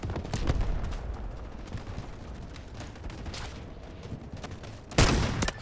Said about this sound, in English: I want to try this sniper rifle.